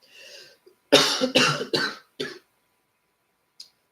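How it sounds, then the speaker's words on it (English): A soft voiced sound, then a quick series of four loud, close coughs in a row, followed by a faint breath. "Loud noise warrant, need to cough."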